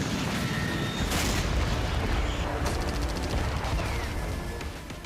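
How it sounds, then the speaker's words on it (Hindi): Missile and rocket explosions in Russia-Ukraine war footage: loud rumbling booms and crackling gunfire-like bursts, with a sharp blast near 1.3 seconds and another around 2.7 seconds, sustained throughout without speech. "जब मिसाइलों और रॉकेट के धमाके होते हैं"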